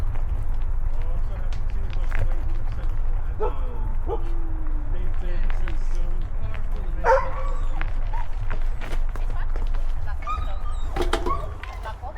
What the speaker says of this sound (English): Uy, may mga aso dun Huminto sila, may mga aso.